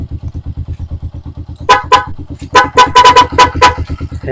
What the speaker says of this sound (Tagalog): Tapos, dual horn.